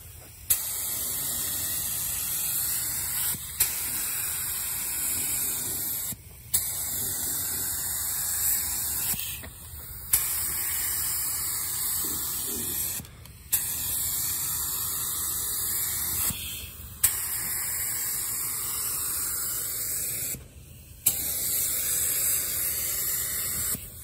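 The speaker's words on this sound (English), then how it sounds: "Try for coat number 2" A paint spray gun hisses in long, loud continuous bursts while a second coat goes onto a Dart Sport outdoors, each pass broken by short pauses, roughly six passes in a row.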